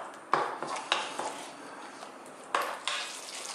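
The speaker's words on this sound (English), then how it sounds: "Stirring all the time." Thai coconut fish curry stirred in a pan over medium heat, with a soft simmer underneath and several distinct clinks and scrapes of a utensil against the pan, close and moderately quiet.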